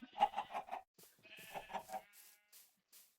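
Sheep bleat on a video game farm: a few short, wavering calls close by in a quiet setting, with gaps of silence and faint softer sounds between them.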